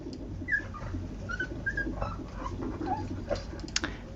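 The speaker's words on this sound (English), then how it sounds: "I'm noticing my puppies, conscious beings that they are, in their being tortured by their mother is what that sounds like." Several young puppies whimper and squeal in short high cries, some thin and whistling, while their mother handles them; the cries are soft, intermittent and close over a low background rumble.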